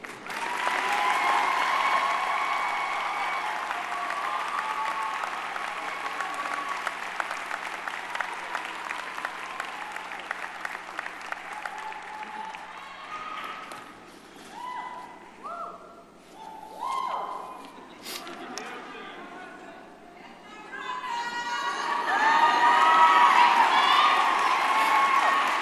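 Enthusiastic applause and cheering from a commencement audience, loud sustained clapping with scattered whoops that thins in the middle, then swells again near the end.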